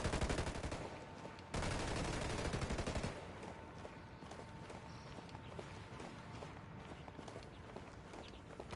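Gunfire in the video game Ghost Recon Wildlands: loud bursts of rapid automatic fire dominate the start, then continue as quieter repeated shots and rattles with footstep-like thuds under game ambience.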